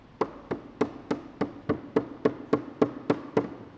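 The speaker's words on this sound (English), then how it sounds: "just keep hammering until you get it all nice and snug" A wooden mallet pounds barn door slats together during assembly of a Rustica Hardware Rockwell sliding barn door, about a dozen sharp, evenly spaced knocks in a steady rhythm, close and clear with no talking.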